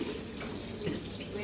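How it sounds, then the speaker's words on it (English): Tap water runs steadily into a sink during hand washing, a continuous close splashing hiss with no break. "Turn on the water."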